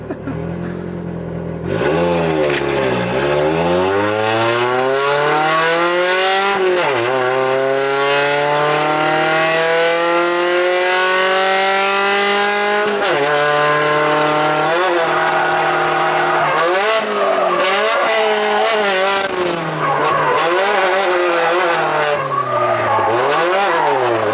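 A drift car at a D1 Divisional West round at YZ Circuit runs naturally aspirated after a turbo cooler pipe came off, engine revving and rising and falling through gears while tires squeal loudly in long drifting slides.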